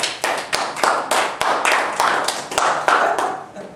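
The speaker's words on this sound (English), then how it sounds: "Give Shamar a round of applause, please." A room of people claps for a young upcoming author as he walks to the front at a youth event, a close, steady burst of applause with a few sharp individual claps standing out, and no talk.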